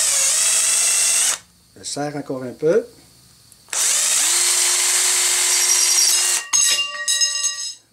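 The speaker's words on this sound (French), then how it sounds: "Je prends ma perceuse, mets ça dans le bout." Power drill spinning at high speed to cut an arrow tube held in its chuck, two long loud whirring runs separated by a pause where someone speaks briefly, then the motor winds down.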